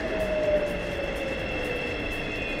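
A Marmaray commuter train rumbles into an Istanbul station with a steady mechanical drone, a thin high whine and a brief descending tone over constant noise.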